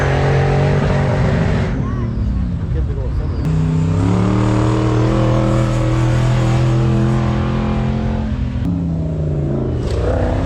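A Polish Ultra4 off-road race car with an old BMW V8 engine at King of Germany 2025 roars loud and close, revving and shifting through rising gears, with a commentator talking over it.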